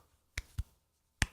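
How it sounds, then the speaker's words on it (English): Three separate sharp claps, each a stack of eight layered clap tracks in a music mix, land at uneven intervals against near silence, the last one the loudest. "this is 8 clap tracks and it still sounds so"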